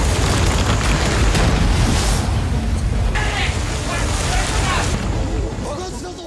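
A loud, rumbling explosion of a bloated kaiju carcass lying in a city roars and then settles into a sustained, noisy wash that slowly fades out.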